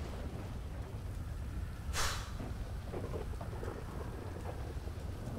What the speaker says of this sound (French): En tout cas, c'est bien, il pleut.